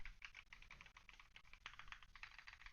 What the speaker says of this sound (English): I think this keyboard just sounds so good, right?